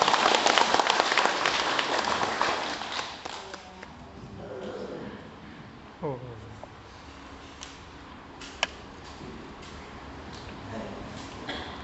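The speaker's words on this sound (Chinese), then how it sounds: "咱以最热烈的掌声欢迎他们出场" An audience at a temple gathering welcomes performers onstage with dense applause that fades after a few seconds into scattered claps, murmuring and occasional taps.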